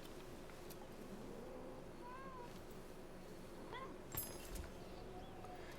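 A friendly cat in a video game gives a few soft meows, faint and brief, over a steady background of game ambience and low hum.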